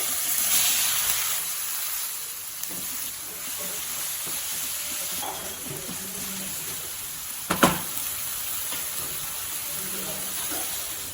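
Potatoes added to hot oil tempered with mustard seeds, cumin and hing, a steady close hiss and sizzle throughout with occasional pops and a brief louder clatter near the end.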